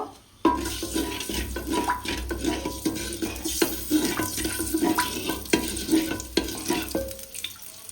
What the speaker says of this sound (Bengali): এবার আমি সামান্য তেলের পরে একটু জিরে দেবো। এই হাতাটা একটু নাড়িয়ে নেব।